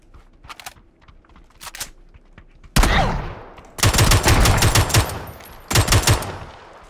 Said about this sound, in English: He didn't hit his second shotgun shot.